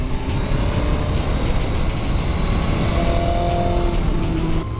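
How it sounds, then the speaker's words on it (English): A BMW S1000RR M Sport motorcycle with an open exhaust and no baffle idles and revs, a dense rumbling engine note holding steady with rising tones, loud and close with no talking. "Watch the overrun, try not to get it to pop and bang too much."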